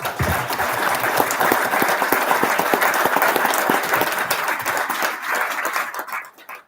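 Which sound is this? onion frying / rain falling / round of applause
round of applause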